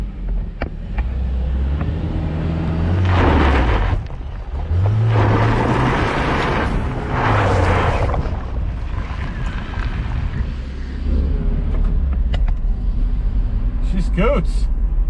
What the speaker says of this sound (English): Better put some gas in this thing before we do any more burnouts in Max's truck